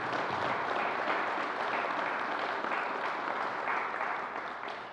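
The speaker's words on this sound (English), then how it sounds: "So let's give him another round of applause." A room full of people at a New York governor's COVID briefing claps steadily in a dense, sustained round of applause that begins to fade at the very end.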